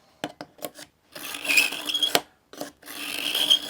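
Rough, gritty scraping strokes of a knife blade drawn over the ceramic slot of an AccuSharp sharpener, a few short swipes followed by longer rasping passes, close and fairly loud.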